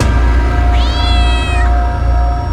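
A single drawn-out cat meow rises and falls clearly over a steady, loud background hum, with no talking.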